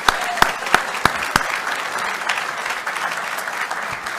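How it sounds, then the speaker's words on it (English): A few sharp, loud claps ring out first, then a room full of people at a leadership conference breaks into sustained applause. "So I'm going to give another round of applause."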